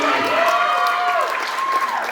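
An audience claps and whoops loudly and continuously, cheering voices rising over the applause before it gradually eases off.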